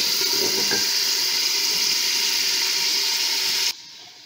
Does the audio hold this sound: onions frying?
yes